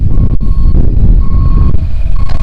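A gravel truck backs up, its reversal alarm beeping repeatedly and steadily over a loud, constant diesel engine rumble nearby.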